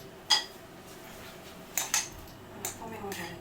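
Potatoes and leeks being mixed in a dish for a baked gratin with ham and cream, a few sharp spoon clinks against the dish, close and fairly quiet, with soft scraping between them.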